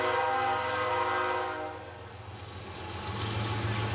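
A train passing on a nearby track, a loud, continuous rumble and grinding roar with a sustained tonal drone, close by and steady, easing slightly midway and then swelling again.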